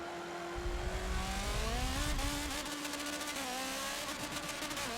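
A Nissan GT-R GT3 race car in Forza 7 accelerates hard, its engine note climbing steadily through the gears, with tire noise beneath and no talking.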